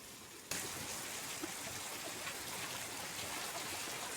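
Heavy rain pours down in a village, a dense, loud, steady wash that starts abruptly after a quiet moment and continues without a break.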